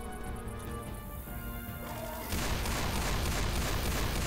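Desert Eagle pistol fire in Left 4 Dead 2 during a close versus match, heard as dense, loud crashing shots and impacts that swell sharply partway through and continue without a break.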